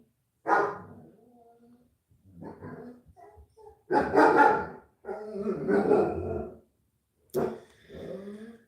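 A dog barks and growls in short bursts with pauses between, fairly close, with no talking.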